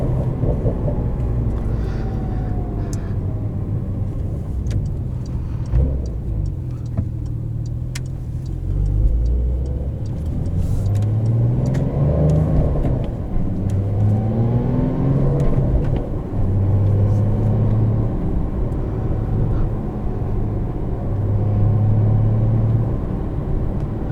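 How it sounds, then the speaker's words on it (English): A 2020 Porsche 911 (992) Carrera 4S with a manual gearbox, driven in sport mode, rumbles loudly from inside the cabin, engine rising and falling through repeated revs with deep exhaust burbles between pulls. "Bring it down into sport so we can get some burbles."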